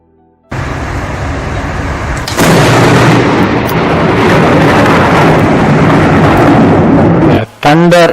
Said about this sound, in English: Thunder is called as Idi in Tamil.